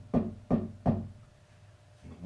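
Three firm knocks strike a front door in even succession, close and loud, followed by a fainter fourth thud after a pause.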